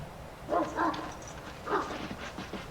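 Dogs barking in kennels in the fantasy game Dragon Age, a few muffled barks and yips at moderate distance over a low background murmur.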